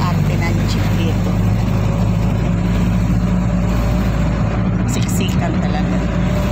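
Jeepney engine droning steadily through a ride toward a rural village, a loud, continuous low rumble with road noise and rattling from the crowded vehicle, voices faintly mixed in.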